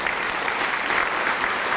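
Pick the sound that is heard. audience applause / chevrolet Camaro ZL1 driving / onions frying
audience applause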